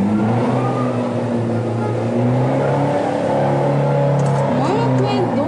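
A car revs and accelerates hard toward a person at a fuel station during a violent confrontation, its engine note rising steadily over loud, continuous crowd noise and shouting voices.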